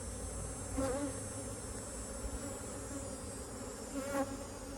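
Honey bees buzz around a queenless hive in a steady, low drone, a thick swarm sound with occasional louder passes as individual insects fly close.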